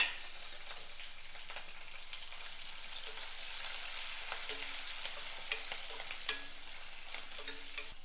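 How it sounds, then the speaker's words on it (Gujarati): Chopped green chillies sauté in a pan for a Gujarati green chilli dish, with a quiet, steady hiss of frying and light, irregular clicks from stirring. "તો હવે આપણે જે સમારીને મરચાં રાખ્યા છે તેને સાંતળી લેવાના છે।"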